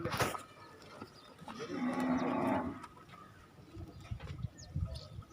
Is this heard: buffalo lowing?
yes